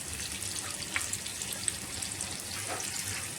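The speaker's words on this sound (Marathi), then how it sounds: "आता आपण ह्याला ना चांगलं फ्राय करून घेऊया." Potatoes fry in a pan alongside eggs for a Bengali-style egg biryani, a continuous fine hiss with light crackle, close and fairly even throughout, with no one speaking.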